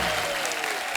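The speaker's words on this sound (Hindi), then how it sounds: "जोरदार तालियां होनी चाहिए।" A brief burst of full, steady studio audience applause on a comedy talk show, many hands clapping together in an even roar.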